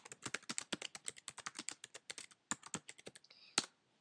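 Quick, steady tapping on a computer keyboard while typing into the Facebook search bar, a close run of crisp keystrokes with a short pause and a firmer final press, no talking.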